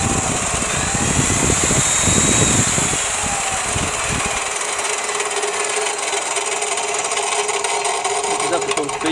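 An Evolution Rage 2 14-inch cold-cut chop saw for metal runs at full speed, a loud, steady high-pitched whine with a slightly rough, clunky undertone that eases after the first few seconds.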